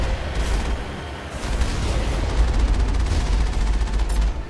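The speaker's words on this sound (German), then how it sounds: "hat halt seine Geschütze, die wirklich reinknallen, vor allem das große Geschütz" In the Mass Effect video game, the Mako tank fires its heavy cannon amid a dense, rumbling barrage of booming blasts and crackling gunfire that stays loud and continuous.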